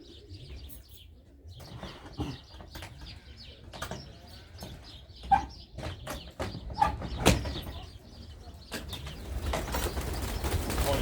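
Pigeons coo and flutter nearby, with sharp bursts of wing flapping as several birds take off, growing busier toward the end.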